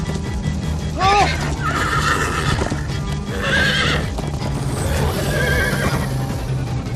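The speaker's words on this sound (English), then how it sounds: "Slow down, horse!" A horse whinnies sharply in Minecraft: Story Mode, then neighs again as rhythmic hoofbeats clatter underneath, with a steady game-like background hum throughout.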